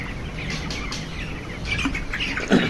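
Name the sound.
broiler chickens clucking on a poultry farm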